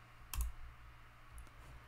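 A single computer mouse click while working in Tableau, a short crisp tap near the start followed by a fainter tap later, alone in a quiet room.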